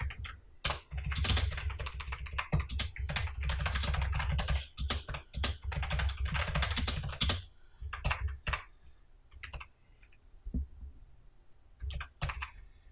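Close, rapid typing of C# code on a computer keyboard, dense clattering bursts of keystrokes that thin out into scattered individual key presses toward the end, with no talking.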